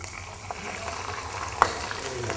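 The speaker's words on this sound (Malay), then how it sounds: "Kita pun boleh goreng ikan ya." Steady hiss of sea bass frying in plenty of hot oil with a sharp pop or crackle partway through, continuous and fairly close.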